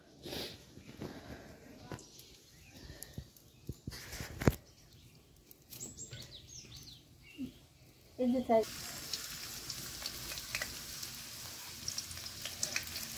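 Eggplant, potato and flat beans fry in oil, first quietly with scattered handling noises and talking, then breaking into a steady, close sizzle.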